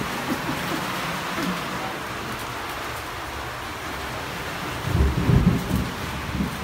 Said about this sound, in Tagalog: May kulog, may kidlat sa taas lang ka.